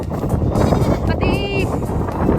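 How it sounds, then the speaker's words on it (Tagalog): Goats bleating outdoors near a river: a couple of wavering, nasal bleats rise over wind and background noise, fairly close and clear. "Oh, mga kambing oh."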